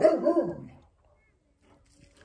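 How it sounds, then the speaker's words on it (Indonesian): A pet dog in a home in Poland barks a few times in a quick, close burst, then goes quiet. "Sorry ini anjing saya"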